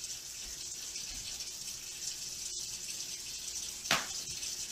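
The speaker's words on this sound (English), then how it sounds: "honey, I'm just doing dishes." Kitchen tap running steadily while dishes are washed, a constant hissing stream of water with a brief clink partway through.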